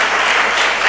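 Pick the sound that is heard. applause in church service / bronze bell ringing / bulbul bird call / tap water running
applause in church service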